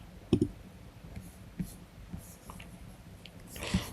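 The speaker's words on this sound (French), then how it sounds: "Je vais cliquer sur programme d'études." A mouse clicks a few times on a web page while applying to a university study programme, giving short, faint taps spread apart over a quiet background.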